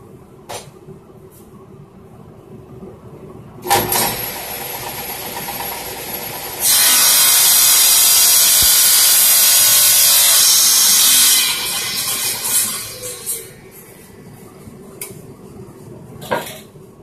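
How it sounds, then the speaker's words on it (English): A saw crosscuts oak sticks on a sled with a fine-tooth blade, a loud, bright sustained cutting whine lasting several seconds, framed by quieter motor hum and a few sharp knocks before and after. "I need to cut them in 21 inches. That'll be a cross cut. We can use our sled for that"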